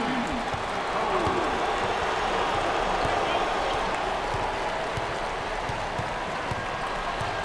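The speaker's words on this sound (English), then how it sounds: "Number 24 is receiving lots of love from the crowd." Crowd noise from fans at a Yale versus Auburn NCAA tournament first-round basketball game, a steady roar of cheering and applause filling the arena throughout, with no clear break.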